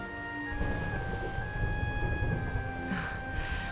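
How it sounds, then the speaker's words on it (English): Rolling thunder from a storm in the video game Dragon Quest XI, a low continuous rumble with rain-like hiss throughout and a brighter crack near the end, with no talking. "Would you look at it thundering away out there?"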